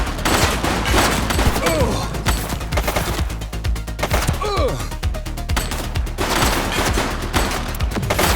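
Rapid gunfire from police and suspects in the video game The Precinct, dense bursts and volleys filling the whole stretch, loud and continuous with brief gaps and faint shouted voices mixed in.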